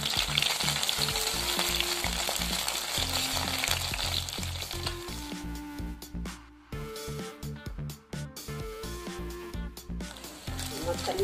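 Small fish frying in a pan on their second side, a dense steady sizzle under talk and background music, with a brief dip partway through.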